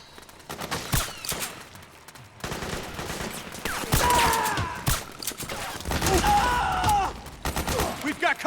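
Heavy bursts of suppressing gunfire in the Metal Gear Solid 4 game, with rapid automatic volleys and sharp shots that crowd the scene. Shouted voices come in and out between the volleys.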